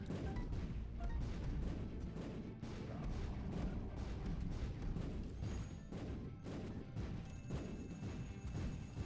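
Explosions in The Binding of Isaac greed mode burst in rapid, overlapping succession, a continuous barrage of crashing booms and thumps with game music underneath, sustained for several seconds.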